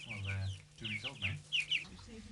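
Farm hens clucking nearby in a short series of soft, bubbly calls, with a low hum or voice-like murmur underneath.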